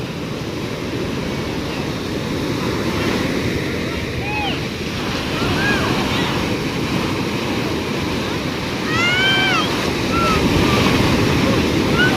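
Ocean waves surging around a boat at sea, a loud continuous rush of water and wind buffeting the microphone, with faint high calls or squeaks scattered through it.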